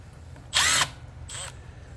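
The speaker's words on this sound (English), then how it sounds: "Oh no, he used power tools." A power drill driving out the carburetor bolts on a pressure washer, two close, loud bursts: a longer whir of about a third of a second, then a shorter, weaker pull after a brief pause.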